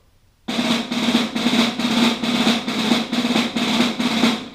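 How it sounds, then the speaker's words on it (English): Snare drum 5-stroke rolls in marching style, repeated at a steady tempo, each roll a loud, close burst with the strokes more distinct, with no one talking. "So if I were to do that in the marching style, it would sound like this, same tempo"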